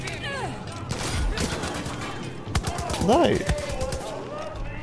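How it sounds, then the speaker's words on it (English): Gunfire rattles in Far Cry 5 as rapid bursts and single shots crack in and out, mixed with in-game effects while a player speaks over the action. "Oh man, who is shooting?"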